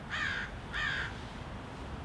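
A crow gives two harsh, evenly spaced caws, faint and a little distant, over quiet background noise.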